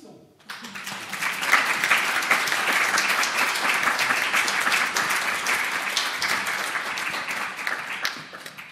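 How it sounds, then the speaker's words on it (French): An audience at a presentation by an RSA advisory council breaks into sustained, dense applause that starts abruptly and holds steady at full strength for several seconds, with no speech over it. "Applaudissons."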